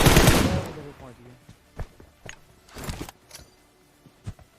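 Video game gunfire in a battle royale match: a loud burst of rapid automatic fire opens the clip, followed by scattered single shots and short bursts, some more distant and fainter.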